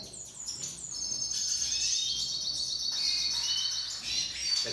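Bird calls from a female chestnut-bellied seed finch (curió) reacting to a male, a steady run of high, bright chirps and twittering trills that continue close and clear throughout, with no talking.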